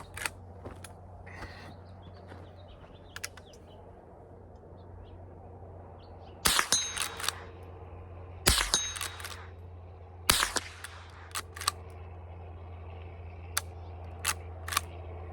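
Marlin 39A rifle fired offhand at 50-yard steel gongs: a few distinct sharp shots spaced seconds apart over quiet outdoor background, followed by faint metallic ticks and clinks.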